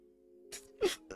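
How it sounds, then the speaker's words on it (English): A few short, harsh coughs in quick succession, close and fairly quiet, over a low steady hum. "Coughing."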